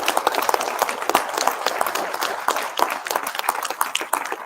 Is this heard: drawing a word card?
no